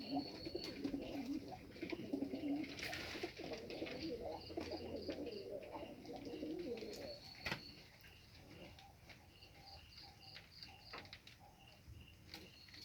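Bonjalali pigeons coo softly and repeatedly, faint and somewhat distant, mixed with light chirps against a quiet background.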